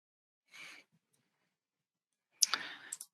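A computer mouse clicks submit on a web form, giving two short, close clicking sounds about two seconds apart in an otherwise quiet room.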